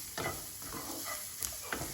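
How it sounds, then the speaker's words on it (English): Onions sizzle gently in a hot pan while a utensil scrapes and stirs them a few times, close up, as they soften during about a minute of frying. "You can actually see that the onion is actually now a bit softer. Just frying for about a minute."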